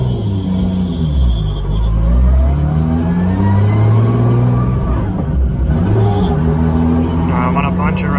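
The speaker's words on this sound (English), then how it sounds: "go to second gear and then floor it around 2000 RPM" Car engine with a manual-converted V160 transmission fitted with a torque converter, floored in second gear from around 2000 RPM, rising in a loud sustained rev with rumble; a voice talks over it.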